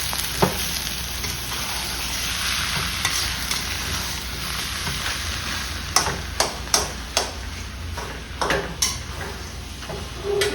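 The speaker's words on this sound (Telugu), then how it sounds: "ఇలా 10 నిమిషాలు బాగా హై మీద వేపేసేసుకున్నామండి." Potato mash frying and being stirred on high heat in a pan, with a steady sizzle throughout and a run of sharp scraping knocks from the spatula toward the end, no voices.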